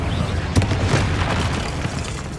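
A Confringo fire spell from the Hogwarts Legacy video game bursting in a loud, deep boom, followed by a dense, sustained roar and rumble of blast noise.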